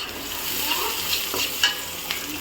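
Chopped onion and cumin seeds fry in a pan for a small-fish and radish curry, giving a continuous bright sizzle with light stirring scrapes throughout, close and fairly loud, without speech.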